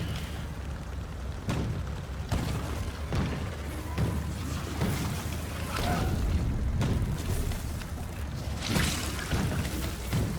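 A tank in Factorio fires explosive shells, giving a series of heavy booms at irregular intervals over a rumbling, noisy background, with no talk.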